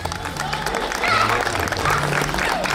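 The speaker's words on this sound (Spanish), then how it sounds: "pido el aplauso para ellos" Loud applause and clapping from a crowd at a village patron saint festival in San Sebastián Zoquiapan, Oaxaca, swelling midway and continuing steadily, with a voice speaking over it.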